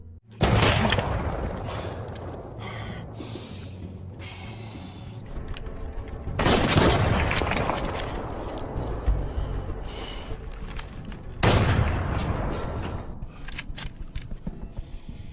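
Sharp, loud gunshots ring out in a war film sniper exchange, three heavy blasts spaced several seconds apart, each followed by a long, rattling, debris-like decay.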